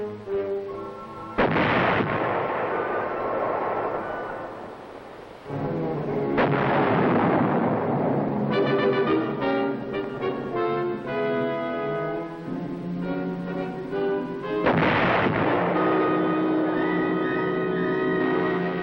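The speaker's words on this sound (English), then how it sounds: "The fire order is given." An army artillery battery fires shells in several heavy, booming reports spaced seconds apart, each followed by a long rumbling decay, loud and close.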